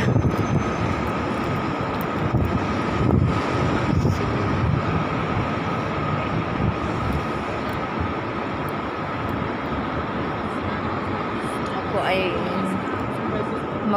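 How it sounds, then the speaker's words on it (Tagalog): A strong, cold wind blows near the sea in Hong Kong, a continuous roaring rush buffeting the microphone throughout, with faint voices briefly underneath. "Kasi dito malamig, malakas ang hangin."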